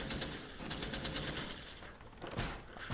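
Quick volley of gunshots aimed at a ceiling panel in Rainbow Six Siege, a rapid string of sharp cracks followed by a louder burst near the end, with no talk.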